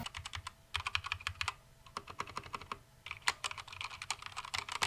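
Rapid clacky keystrokes on Keychron mechanical keyboards, typed in quick bursts with brief pauses, close and crisp with no talking.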